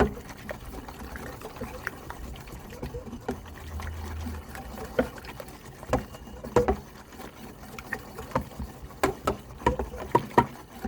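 Active sourdough starter is whisked in a bowl, producing irregular wet tapping and sloshing strokes at moderate level over a steady low background, with the strokes growing busier toward the end.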